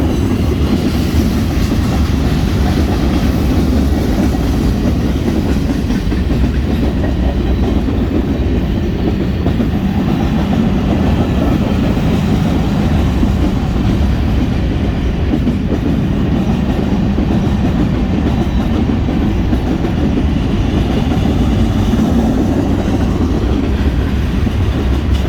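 A BNSF freight train, Warbonnet heritage unit 4719 with 7183 leading and a gondola loaded with old wooden ties, rumbles past close by in a loud, continuous roar with clickety-clack of wheels and occasional squeal.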